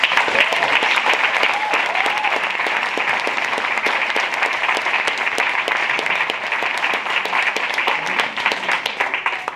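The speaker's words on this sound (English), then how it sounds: "So can I get a round of applause?" A large audience at a UK Paycation Super Saturday gathering gives a sustained round of applause for visiting guests, loud, dense clapping that stays constant throughout with a faint crowd murmur beneath.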